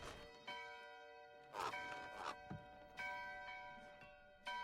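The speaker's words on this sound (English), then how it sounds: "Bell, church bell." A church bell tolls repeatedly in the Diablo 4 video game, each strike ringing out with long metallic overtones, spaced about a second apart, with a soft thunk between strikes.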